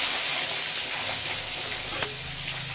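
Potatoes, 500 grams of local desi potatoes, hit hot oil already holding dried and green chillies, cardamom and bay leaves, giving a steady loud sizzle and hiss with faint stirring, no talk.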